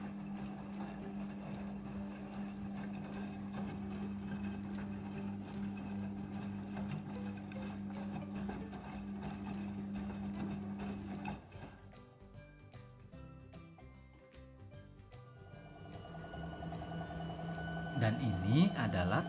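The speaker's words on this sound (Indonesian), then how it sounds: "Pada proses pembilasan yang kedua, cairan pewangi akan otomatis masuk ke dalam tabung mesin cuci." A Midea front-loading washing machine runs its rinse cycle on a load of towels, giving a steady close motor hum with water movement that drops and shifts midway before higher tones rise near the end.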